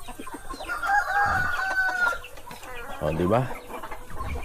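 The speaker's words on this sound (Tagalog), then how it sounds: "Mga native chicken." Native chickens on a farm crow with a long sustained call, then give short clucks, fairly close, while someone talks over them in the background.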